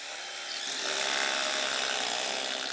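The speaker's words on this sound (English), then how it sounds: "So you just saw the lads drilling into the concrete this base rail" A power drill bores into a concrete base to fix the timber base rail of a wooden garage kit, a harsh broadband grinding roar that swells after a moment and holds steady, close and without talk.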